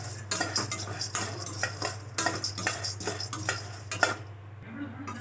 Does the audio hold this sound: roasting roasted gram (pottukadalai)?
yes